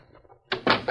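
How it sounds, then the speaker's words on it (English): In a 1940s Lone Ranger radio drama, a door shuts with a sudden wooden thud followed by a couple of quick knocks and rattles, loud and close after a quiet moment. "Quick, let me in and close the door."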